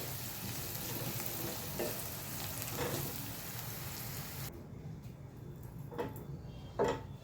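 Sliced onions fry in oil in a pan until soft, a quiet steady sizzle with occasional spatula scrapes and taps, the sizzle dropping sharply partway through while the utensil sounds continue.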